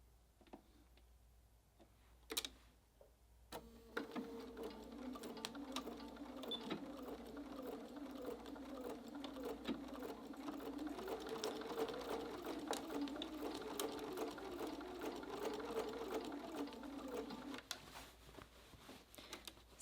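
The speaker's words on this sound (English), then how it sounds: "I definitely want to be reinforcing my stitching." A sewing machine stitches reinforcing seams on a jelly roll tote, starting after a couple of clicks and running in a steady mechanical chatter for over ten seconds before stopping.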